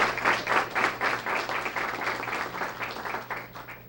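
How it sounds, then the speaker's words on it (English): An audience at a school Student of the Month ceremony breaks into steady, dense applause that fills the room evenly and tapers slightly near the end, with no talking over it. "let's give everyone a great round of applause"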